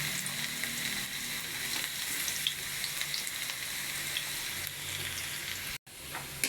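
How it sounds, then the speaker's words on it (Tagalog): Chicken afritada being sautéed in a pan, a loud close sizzle with stirring scrapes throughout, cut by a brief gap near the end. "Gigisa tayo. Gawin natin apritada."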